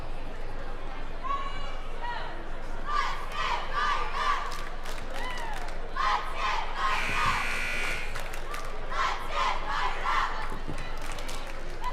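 A substantial crowd roars and chatters steadily in the Pine-Richland high school gymnasium during a basketball game on senior night, with shouts and cheers swelling in the middle, loud and continuous throughout.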